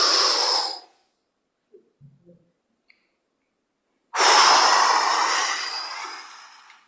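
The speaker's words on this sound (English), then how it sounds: "That's a breathing exercise." Slow, deep breathing as a relaxation exercise: one long exhale trails off, a few tiny sounds fill a quiet pause, then a strong, close, airy breath rises and slowly fades.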